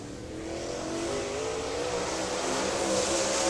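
Late model race car on a qualifying lap at an oval track, a steady engine roar building gradually louder as it comes around.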